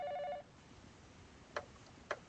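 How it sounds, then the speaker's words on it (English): A phone rings in the 428 Shibuya Scramble video game: a steady electronic tone at first, then after a pause two brief, faint chime-like rings, quiet and without talk. "The phone rang, cutting him off before he could get down to business."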